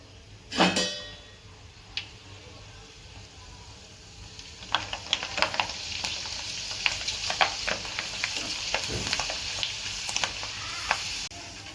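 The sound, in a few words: semolina kurdai frying in oil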